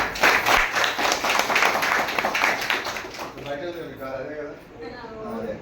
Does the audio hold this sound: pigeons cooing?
no